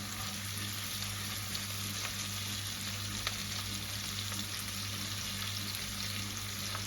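Ginger garlic paste sizzles steadily in a hot pan as the base for keema rice, a continuous close frying hiss with faint crackles and a low steady hum beneath.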